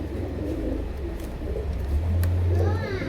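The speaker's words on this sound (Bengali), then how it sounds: "আমি সুন্দরভাবে কবুতরগুলো আপনাদের দেখাই।" Silver pigeons coo softly in a cage, a low murmuring close by, with faint background noise and a brief chirp near the end.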